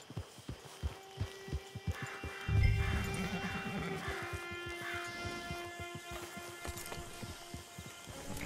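Horse hooves in Red Dead Redemption 2 clop in a steady walking rhythm, close and clear, with a brief snort or blow partway through and faint background hum of the game.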